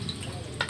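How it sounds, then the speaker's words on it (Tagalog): Pork feet frying in hot cooking oil, a brief steady sizzle with a slightly sharper crackle near the end. "Nga ato ning ilunod na ni kay init ang mantika."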